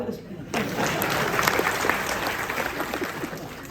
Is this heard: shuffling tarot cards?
no